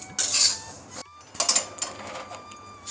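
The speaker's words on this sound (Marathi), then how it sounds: "आता ही एक प्लेटमध्ये काढून घेते" Freshly roasted sesame seeds are scraped from a pan onto a plate for til-gul ladoos: sharp metallic scraping and rattling bursts separated by brief pauses, close and fairly loud.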